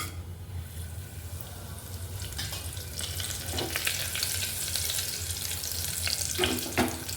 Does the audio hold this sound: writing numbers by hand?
no